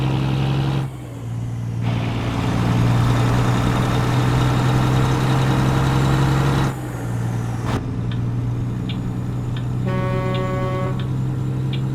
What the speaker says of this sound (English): Now let's listen to the cat engine.